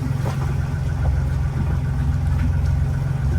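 A Privilege 435 catamaran's engine runs at a steady low idle, a deep continuous rumble with a faint mechanical knock, alone and close by.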